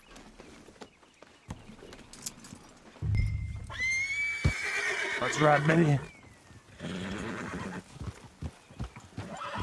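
A white horse in the Red Dead Redemption 2 video game gives a loud whinny, with hooves clip-clopping before and after and someone speaking softly over it.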